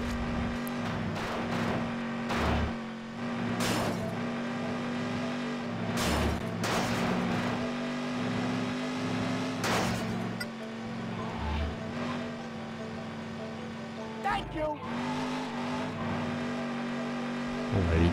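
Car engine in the video game GTA Chinatown Wars, a Banshee sports car, revving and driving continuously with a steady engine drone, game music and effects mixed in, loud and close throughout.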